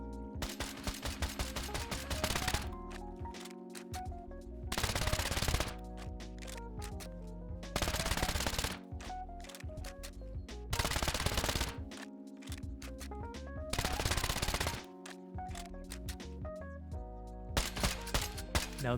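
Rapid automatic gunfire with explosive ammo in the video game Rust, repeated sharp bursts of shots in clusters several seconds apart, layered with impact cracks and a sustained musical tone underneath.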